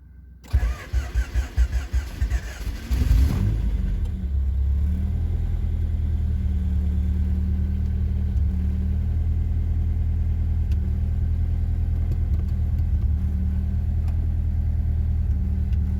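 A Honda H22A engine in an old wagon cranks for a few seconds, catches and fires up, then settles into a steady, loud idle with a slight stutter that runs on alone close by.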